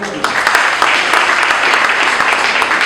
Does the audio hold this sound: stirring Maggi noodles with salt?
no